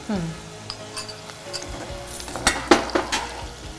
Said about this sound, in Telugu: క్యాప్సికమ్ని ఇలా కాస్త ఫ్రై చేసి కొంచెం లైట్గా చేసి తీసేది